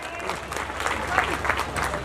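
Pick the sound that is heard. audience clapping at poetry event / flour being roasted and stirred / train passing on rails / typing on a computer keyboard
audience clapping at poetry event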